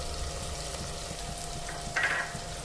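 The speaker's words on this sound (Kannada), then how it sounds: "ಮಸಾಲವನ್ನ ಚೆನ್ನಾಗಿ ಇದರಲ್ಲಿ ಫ್ರೈ ಮಾಡ್ಕೊಳ್ಳಿ." Low, steady sizzle of ground masala frying with onion and tomato in a pan, close and fairly quiet, with a brief brighter crackle near the end.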